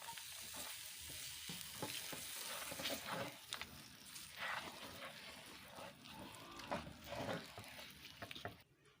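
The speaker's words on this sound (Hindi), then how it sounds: "ये गुड़ तैयार हो गया, इसमें मूंगफली शामिल कर रही हूँ" Peanuts being stirred into hot melted jaggery for gur tikkiyan, a steady scraping stir over soft sizzling and bubbling, close and continuous with no talk.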